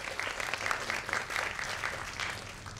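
Students in an audience applaud to welcome a guest author at a school book release, a lively round of clapping with uneven pulses of louder bursts throughout.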